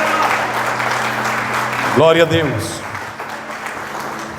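A church congregation claps hands together in a brief burst of applause, loud and close, while a voice speaks over a steady background drone.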